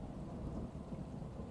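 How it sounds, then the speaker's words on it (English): Low, continuous rumble of distant thunder under steady rainfall on a stormy night by a graveyard, the rain a soft constant patter with no sharp cracks. "a low rumble of thunder echoed in the distance"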